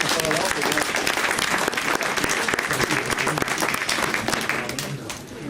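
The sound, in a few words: audience applause for sponsors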